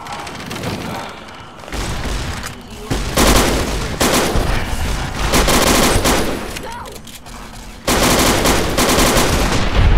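Gunfire in the video game Fallout New Vegas, loud sustained bursts of rapid automatic shots broken by short pauses, with booming impacts layered over a dense background.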